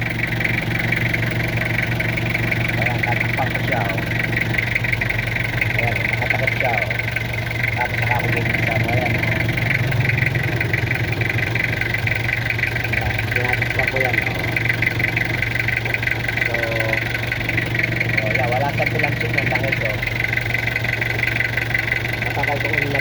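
A car engine idles with the oil filler cap removed, giving a steady, even mechanical hum with a light knocking rumble that holds unchanged throughout.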